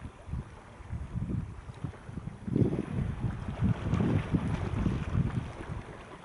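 Wind and sea outdoors: steady wind buffeting the microphone and low surging water noise, rising and falling in gusts, fairly close and moderately loud, no voices.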